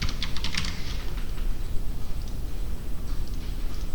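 Rapid clicking of keys on a computer keyboard while code is typed, a close, steady patter of keystrokes with a denser burst at the start and no talking.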